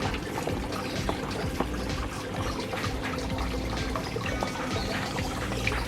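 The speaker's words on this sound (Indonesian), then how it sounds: "Ini kita taruh di chamber sini aja airnya." Water pouring steadily into the chamber of a fish pond, a continuous splashing gush that stays even and close throughout with no pauses.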